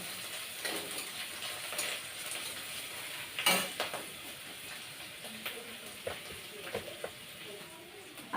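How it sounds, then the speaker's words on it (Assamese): Garlic and green chillies going into hot oil for a taro dish, a soft steady sizzle with light stirring clatter and a brief clink, faint and close in a home kitchen. "এতিয়া তেলখিনি গৰম হ'ল নহৰুখিনি দি দিওঁ"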